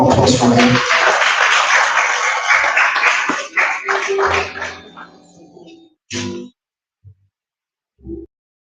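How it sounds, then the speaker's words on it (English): An audience at a conference breaks into applause, dense clapping for about three seconds before thinning into scattered claps and fading, followed by a few isolated thumps near the end. "Please a round of applause for him."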